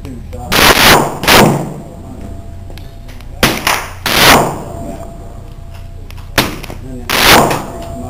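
Shots from a Kahr P380 pistol fired outdoors on a range, several loud sharp reports spaced irregularly, some in quick pairs, each with a short echoing tail, while people talk between the bursts.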